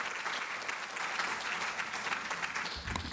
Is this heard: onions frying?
no